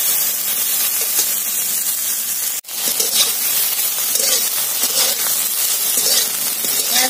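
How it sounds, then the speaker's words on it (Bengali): Okra frying lightly in a pan, a steady loud broadband sizzle and hiss throughout with one brief cut in the middle, no talking. "এবার হালকা করে ঢ্যাঁড়সটা একটু ভেজে নেব।"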